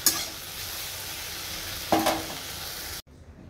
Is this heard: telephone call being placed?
no